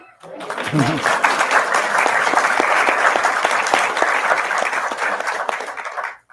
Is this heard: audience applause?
yes